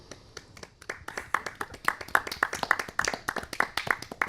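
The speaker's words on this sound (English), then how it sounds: "Let's have a round of applause" A small studio audience claps in a crisp, brisk patter of distinct hand claps that builds quickly and holds steady, fairly close, with no talk over it.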